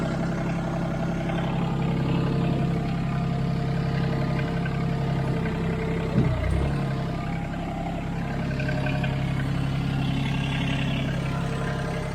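A tractor engine runs steadily at a low idle on a mountain trail, a continuous close rumble that stays even throughout, with a brief heavier thump around the middle.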